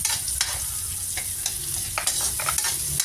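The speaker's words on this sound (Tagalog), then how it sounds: "Palambutin ko lang itong sibuyas." Onions softening in a hot pan with a steady frying sizzle, punctuated by occasional scrapes and stirs of a utensil, close and continuous with no talking, during cooking of ginataang pako at kalabasa.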